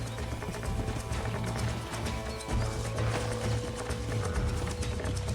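Horse hooves clip-clop steadily in the Red Dead Redemption video game, mixed with a whinny and busy game sounds and music, loud and continuous throughout.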